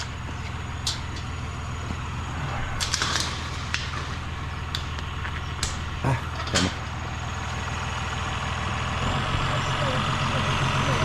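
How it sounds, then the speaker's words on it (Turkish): A tractor engine runs steadily through deep snow on a winter road trip, a loud, constant low rumble with scattered clicks and knocks over it and a few brief voices in the cab. "Bu karda mecbur traktörle gitmemiz lazım"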